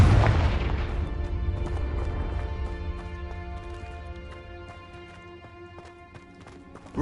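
A Confringo explosive spell goes off in the Hogwarts Legacy video game at a poachers' blockade, opening with a heavy booming blast that decays into a ringing tail and scattered metallic clinks and small impacts.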